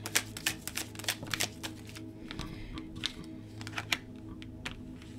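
Tarot cards are shuffled and drawn in a run of quick, crisp riffling flicks and soft slaps, close up with an irregular rhythm and no talking.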